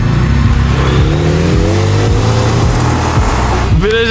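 A car pulls away with passengers on board, its medium engine revving and rising in pitch over steady road rumble, loud and close throughout, with voices faintly present.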